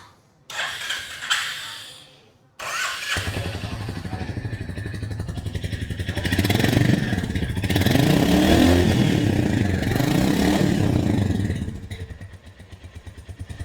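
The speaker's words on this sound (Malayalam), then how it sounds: "അതുപോലെ തന്നെ എക്സോസ്റ്റ് നോട്ടും ഡിഫറൻ്റ് ആയിരിക്കും നമുക്ക് പ്രതീക്ഷിക്കാം എന്തായാലും ഒന്ന് സ്റ്റാർട്ട് ചെയ്ത് നോക്കാം" A Royal Enfield Goan Classic 350 motorcycle turns over and starts after brief mechanical clatter, then settles into a loud, steady single-cylinder thumping idle that swells with revving in the middle and eases back down.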